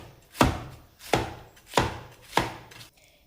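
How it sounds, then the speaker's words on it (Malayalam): A knife slices cabbage thinly into long strips on a board, four crisp evenly spaced chops, close and clear with no talk. "കാബേജ് ഇതുപോലെ കനം കുറച്ച് അല്പം നീളത്തിൽ അരിയുന്നതാണ്"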